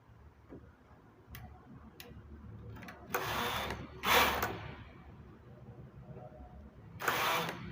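Knitting machine carriage drawn across rows of waste yarn, giving sharp ticks followed by several loud rasping sweeps spaced a second or so apart, close and clear over a quiet background.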